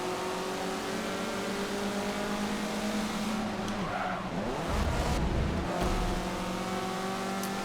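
Mazda MX-5 Cup race cars in Forza Motorsport 7 drone and rev in a tight pack, engine notes rising and shifting with a brief tire squeal and a louder surge midway, no voices.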